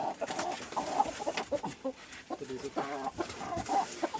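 Chickens cluck repeatedly in an egg-laying area on a farm, with close, irregular bursts of clucking and faint background noise.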